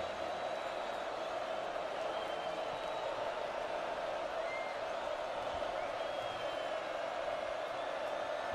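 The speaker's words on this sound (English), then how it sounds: "This crowd coming to their feet again." A college football stadium crowd at an Oklahoma Sooners versus SMU game roars as fans rise to their feet, a broad, steady cheer heard from a distance without lulls.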